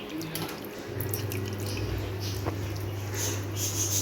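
Chicken pieces are washed in water in a vessel, giving soft splashing and dripping sounds over a low steady hum, with small scattered water noises close by.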